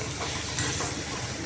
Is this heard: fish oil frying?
yes